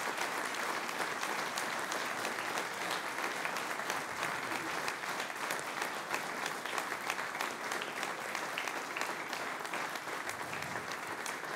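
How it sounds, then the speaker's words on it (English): Sustained applause from an audience at the Fed Cup by BNP Paribas 2015 draw ceremony, held in tribute, a steady dense wash of many hands clapping throughout, moderately distant with no talk over it. "And if we could have a lot of seconds of applause for Elena, in the memory of Elena Baltasar,"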